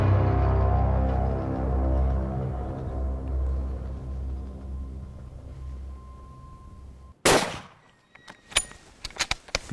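A low engine rumble fades out, then a single sharp, loud rifle gunshot cracks during a hog hunt, followed by a few fainter thumps and rustles.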